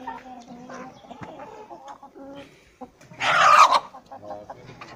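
Chickens and roosters on a backyard hen farm cluck intermittently throughout, with a louder burst of squawking near the end, close to the listener.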